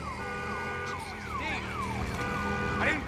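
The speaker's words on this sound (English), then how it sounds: "Damn alarm." A wailing siren alarm sweeps up and down continuously in the video game Days Gone, loud and sustained against rumbling background game sound, with a voice briefly heard over it.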